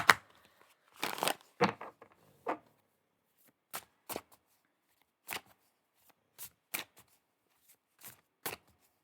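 A deck of cards is shuffled by hand at close range, an opening flurry of riffles followed by sparse, separate soft snaps and slaps spaced a second or so apart, with quiet pauses between.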